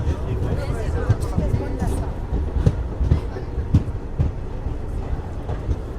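The Seven Hills SF Express rumbles into Madanapalle station, a steady low roll with rhythmic wheel clacks on the rails, while a crowded platform murmurs and someone talks nearby.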